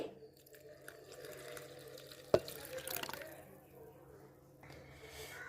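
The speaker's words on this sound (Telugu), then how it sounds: "మిగిలిన నీళ్ళు కూడా పోసేసుకోవాలి" Water is poured over dried fish being washed by hand in a bowl, giving soft splashes, drips and squishy rubbing sounds at close range, with a sharp knock midway and quiet talk in the background.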